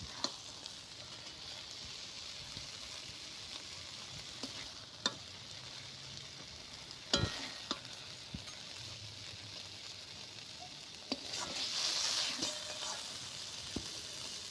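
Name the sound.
poppy seeds frying with bitter gourd and greens in pan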